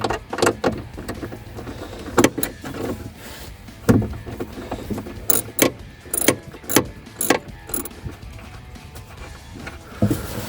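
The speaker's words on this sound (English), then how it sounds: "There's a little bolt right here, 10 millimeter deep socket." Metallic ratcheting and clinking as a 10 mm bolt is removed with a deep socket from the fuel pump control module area of a Chevy Sonic LT hatchback, irregular clicks and knocks over a steady background hum.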